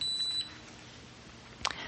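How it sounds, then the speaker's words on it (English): A single short electronic power-on beep from a WayLink scanner sounds near the end, following a brief faint tone at the start, over quiet room hiss. "I heard a beep, so I know it's on."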